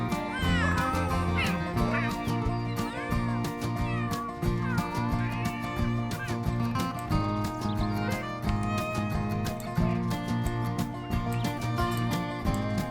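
Cats meow repeatedly in The Sims game over a steady, loud musical background, the cries rising and falling across the whole stretch.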